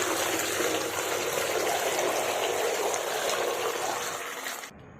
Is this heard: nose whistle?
no